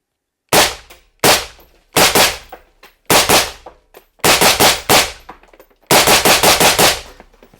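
Gunshots fired through a 3D printed titanium suppressor: about a dozen sharp, loud reports, first spaced singly, then in quick clusters of two, three and five near the end, each with a short ringing tail.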